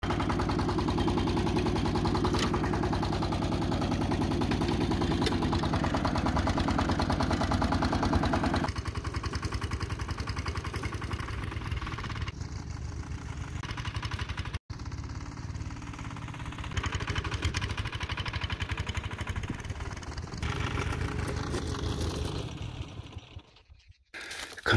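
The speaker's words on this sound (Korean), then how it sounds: "이걸 눌러주고 시동 걸면 잘 걸려요" A tiller engine for spring plowing of a field runs steadily with a rough mid-pitched drone, its tone shifting a few times as throttle changes, then cutting out near the end.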